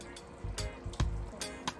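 Water is poured into a pan of sweet and sour pork gravy, a faint, brief splashing pour with a few soft bursts on a quiet stovetop.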